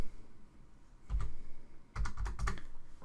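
Bursts of typing on a computer keyboard while entering a math answer, two quick clusters of clicky keystrokes separated by a pause, close and clear with no talking.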